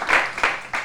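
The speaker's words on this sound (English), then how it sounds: "can we give a round of applause for Big Hass," A brief burst of applause at a book launch, a few loud clapping swells in under a second, close and crowded.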